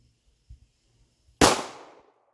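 A single sharp Glock pistol shot fired with a limp wrist, one loud crack with a short decaying tail after faint handling clicks.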